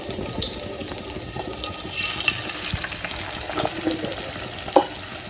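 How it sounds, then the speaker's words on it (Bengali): Hilsa fish pieces rubbed with turmeric, chili and salt frying in hot oil, a steady close sizzle with soft crackles and a few clinks of a utensil, no talking. "এখন হচ্ছে ভেজে নিব এক এক করে"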